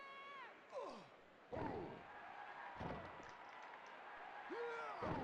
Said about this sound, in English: Nice back suplex. He slams him down.